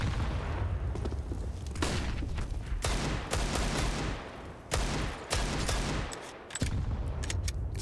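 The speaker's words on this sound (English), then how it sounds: "Some shots towards the sandbag angle." Gunfire in CS:GO on the Vertigo map during an ESL Pro League match: rapid bursts and single sharp cracks from several weapons fire in quick, irregular succession, loud and close, with occasional gaps.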